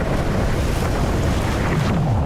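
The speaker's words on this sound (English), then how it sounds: "Right now, we have a squall" A squall at sea buffets a small sailboat held bow into 25-knot winds: a loud, continuous roar of wind blasting the microphone over crashing, rushing waves, with no voices.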